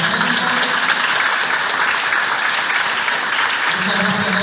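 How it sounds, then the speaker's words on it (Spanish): A school audience gathered for a Día de la Memoria event gives loud, sustained applause to welcome a guest, the dense clapping continuing steadily with a voice faintly underneath near the end. "Recibimos con un fuerte aplauso a Laura Marrone,"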